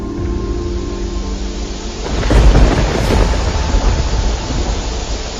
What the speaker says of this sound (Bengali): ইস, কি বৃষ্টি হচ্ছে!